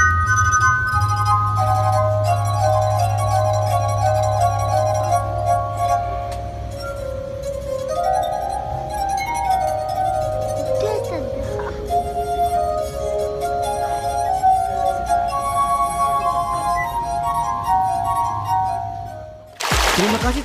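Fingers rub the rims of water-filled glasses in a street performance, producing sustained, ringing glass-harp tones that glide and overlap between pitches. The tones play continuously and loudly throughout before cutting off abruptly at the end.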